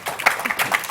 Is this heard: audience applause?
yes